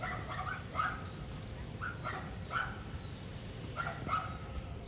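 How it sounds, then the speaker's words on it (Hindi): A small dog barks repeatedly at a distance, in scattered bursts over a steady outdoor background, with no talking, near a house in a commercial area. "वो छोटा सा कुत्ता बहुत भौंकता है।"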